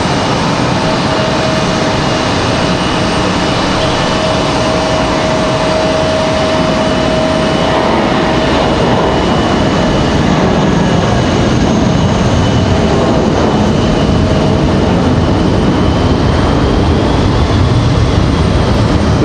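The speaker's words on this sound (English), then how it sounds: "Early rotation for the A320." A JetBlue Airbus A320 jet departs Raleigh-Durham International at evening, its engines a loud, steady, close roar through rotation and takeoff, sustained with no break.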